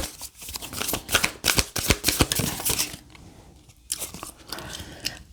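Tarot cards shuffled by hand, a fast run of crisp riffling snaps and flutters close by, dense at first, then thinning into a few scattered slaps, with no voices.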